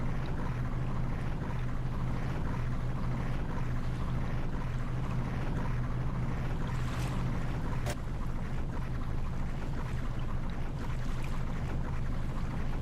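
A ship's engine and bow thruster in Ship Simulator produce a steady low mechanical drone with rushing water and wind-like noise, constant and moderately loud, with no talking.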